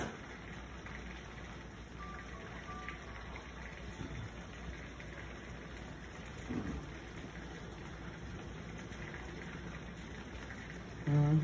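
Continuous rain falling at night during a lightning-heavy thunderstorm, a steady moderate wash with a brief low rumble and a louder swell at the very end.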